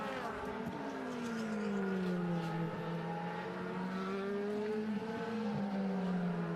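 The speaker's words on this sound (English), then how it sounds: "Marco Wittmann, as he sparks that BMW around this Lausitzring circuit" BMW DTM touring race car lapping the Lausitzring circuit, its engine note holding a sustained high whine that rises and falls steadily through the lap, loud and continuous with faint background noise.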